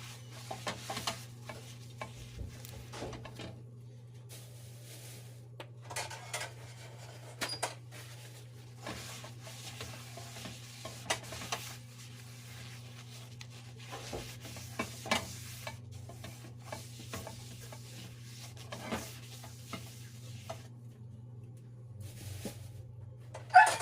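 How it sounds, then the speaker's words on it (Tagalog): Kangkong (water spinach) for adobong kangkong is stirred and fried in a pan with a steady low sizzle, utensils scraping and tapping in scattered bursts, with no voices. "At lulutuin na natin yung ating kangkong."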